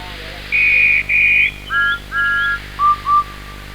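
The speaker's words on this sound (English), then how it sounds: "Finally, the guard's whistle blew." A train guard's shrill whistle sounds in a series of short and longer blasts at shifting pitches, loud and clear against a steady low hum.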